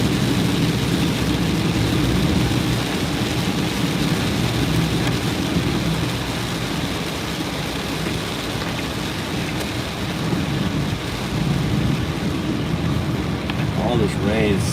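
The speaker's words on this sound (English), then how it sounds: "All this rain sucks." Heavy rain pours down in a dense, steady hiss that stays constant throughout, with a faint rumble underneath and no clear voices.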